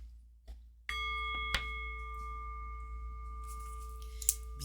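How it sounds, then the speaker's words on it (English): A single ritual bell strikes clearly, its ringing tone sustaining and slowly fading against a quiet background with a low steady hum. "by the sound of the bell"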